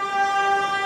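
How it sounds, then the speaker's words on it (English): A train horn blares loudly and steadily for under a second, a sustained multi-tone chord close by, with no talking over it. "Thanks, train."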